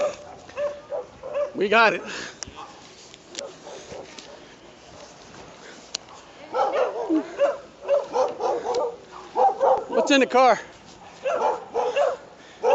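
A police dog in a patrol car barks and yips in short bursts at moderate distance beside a roadside traffic stop, mixed with people talking nearby.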